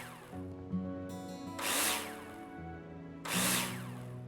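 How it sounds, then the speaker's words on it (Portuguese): Two bursts from a power drill driving screws into profiles in the Builder Simulator construction game, each whirring for about a second over a tonal game background, close and clear. "And screw them in with a drill."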